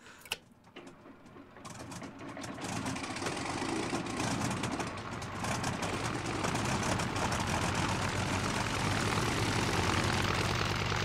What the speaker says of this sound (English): I got to start the engine.